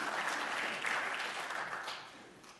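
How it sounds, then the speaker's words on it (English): A church congregation breaks into applause during a sermon, a broad, fairly distant crowd clapping that holds steady and then gradually fades out. "You can clap for it."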